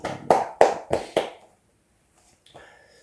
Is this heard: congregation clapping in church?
yes